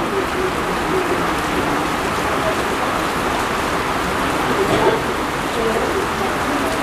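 Steady rain falls outdoors on a walk toward Nkufu, a dense, continuous hiss of drops on surfaces that stays fairly loud throughout with no talking.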